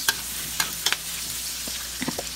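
Cabbage and fried tofu being stir-fried in a pan: steady sizzling hiss throughout with a few scattered scraping clacks of a spatula against the pan, close and without talking.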